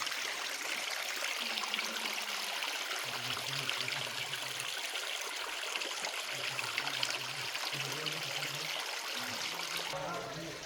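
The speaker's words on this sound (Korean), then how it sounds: "시원한 물이 그냥 졸졸졸졸졸졸졸 아, 흘러갑니다." A stream trickles and babbles steadily nearby in Hancock Gorge, Karijini, with soft low voices murmuring intermittently beneath the water.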